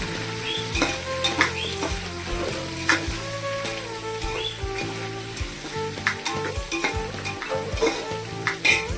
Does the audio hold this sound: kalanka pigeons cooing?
no